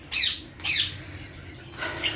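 Harsh bird squawks, three loud calls spaced about half a second apart, close by with a low background hum.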